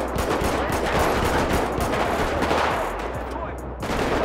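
Gang members open fire in a favela shootout in a video game, rapid sustained machine-gun and rifle bursts rattling continuously, loud and close, with a voice briefly mixed in.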